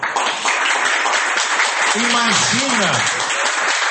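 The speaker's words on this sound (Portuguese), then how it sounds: "Irmãos, vamos aplaudir essa palavra." Prayer group congregation applauding, a broad wash of clapping from many hands heard steadily throughout, with someone speaking loudly over it partway through.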